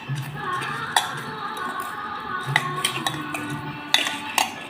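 A spoon stirs masala in a metal cooking pot, scraping and chinking against the sides with several sharp, close clinks at irregular intervals, with no talking.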